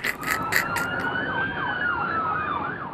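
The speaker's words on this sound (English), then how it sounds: "they heard the wail of police sirens and saw flashing police lights" Police car sirens wail loudly and steadily in a rising-and-falling pattern, close and continuous, with a brief burst of clatter at the start.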